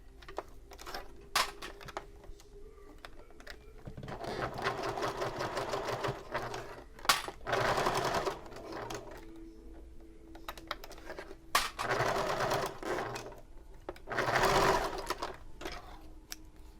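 A sewing machine top stitches a fabric bag in several separate bursts of rapid, buzzing stitching, each lasting a second or two, with short quiet pauses between them.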